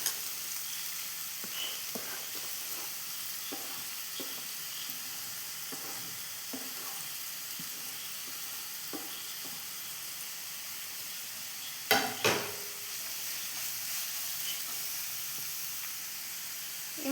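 Thinly sliced onions frying in a pan with ginger and garlic for a masala, a steady soft sizzle under occasional scraping stirs, with a sharper clatter of the spoon near the middle.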